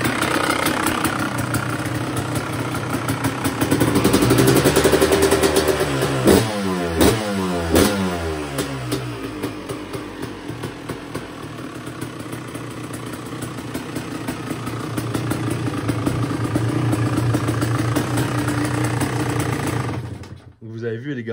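A motorcycle engine starts cold, crackling and popping, then settles into a steady idle with a brief rev, loud and close until it cuts off at the end.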